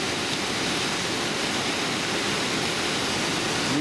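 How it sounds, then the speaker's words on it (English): Steady broadband roar of heavy fresh water pouring over Topcliffe weir, a continuous rushing wash with no breaks, loud and close throughout. "there's a lot of fresh water going down"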